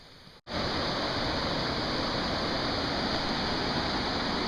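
Roar of Nayaca Waterfall at the bottom of a steep gorge, kicking in abruptly after a brief quieter moment and then holding as a loud, constant rush of falling water.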